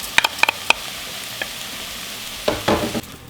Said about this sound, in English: We're going to put in our rice and we're going to toast this for about a minute.